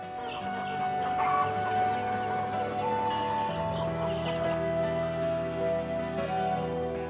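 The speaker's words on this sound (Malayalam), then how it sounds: "കൈരളിക്കോഴി, കരിങ്കോഴി, BV380, ടർക്കിക്കോഴി, നാടൻ കോഴി എന്നീ ഇനങ്ങളിൽപ്പെട്ട കോഴികളാണ് ഇവിടെയുള്ളത്." Farm flock of Kairali, black, BV380, turkey and native breed chickens clucking and calling continuously, with a rooster-like crow among the overlapping bird sounds.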